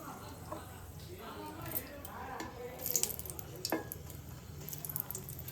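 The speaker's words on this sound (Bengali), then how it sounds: "পনির ভেজে যে তেলটা আছে এর মধ্যে আমি ফোড়নটা দিয়ে নিচ্ছি। প্রথমে শুকনো লঙ্কা 2টো দিয়ে দিলাম" Two dried red chillies sizzle in hot oil left over from frying paneer, a steady low crackle with brief spikes of spitting and a few utensil clicks, fairly quiet and close.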